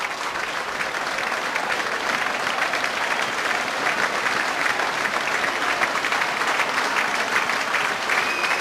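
Football crowd at a 1997/98 Plymouth Argyle v Preston North End match applauding as Richard Logan is sent off, a dense, steady wash of clapping that stays loud and unbroken from start to finish.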